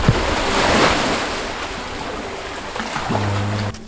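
Ocean waves washing onto a beach at high tide, a steady broad surf roar with gusting wind buffeting the microphone, rising slightly near the end.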